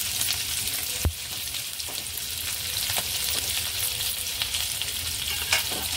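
A large onion, sliced into long strips, sizzles in oil in a pan while being stirred, giving a constant close crackling hiss with occasional sharp spatula clinks and scrapes.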